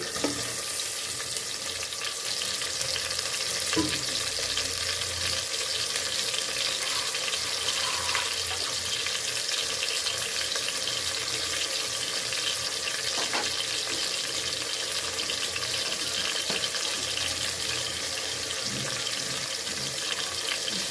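Tomatoes fry in a pan with a steady, dense sizzle that holds evenly for the whole stretch, joined now and then by faint clinks and stirring noises.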